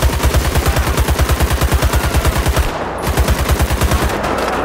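Heavy weapon gunfire in GTA V, a loud, rapid, rhythmic machine-gun burst of evenly spaced shots, briefly pausing near the three-second mark before a second burst resumes.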